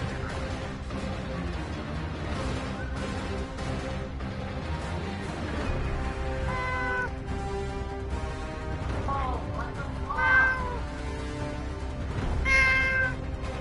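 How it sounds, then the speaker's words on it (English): A little kitty cat meows several times, its rising, wavering cries standing out over a busy, continuous background of game sound and music, with two louder meows near the end. "I hear a cat."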